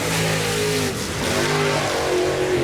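A white race car's engine revs hard on a racetrack during a limited race, a loud continuous engine note rising and falling as it accelerates close by, with no talking.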